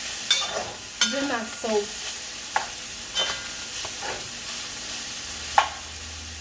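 Onion sizzles faintly in a pan while a spoon stirs and taps against it in scattered knocks, with someone speaking briefly over the frying.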